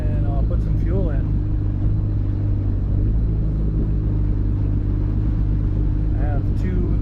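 A jetski engine runs steadily on the water of Effingham Inlet, a continuous low rumbling drone that stays loud and unbroken, with brief higher whines rising over it now and then.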